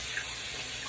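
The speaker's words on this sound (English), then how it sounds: "So step one, I'm washing my face." A bathroom tap runs steadily into a sink while someone washes their face, a constant broadband hiss of flowing water held at an even level for about a second.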